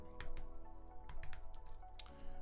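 Keys on a computer keyboard are typed in a quick burst of soft clicks while a command is entered, close and fairly quiet over a steady background hum.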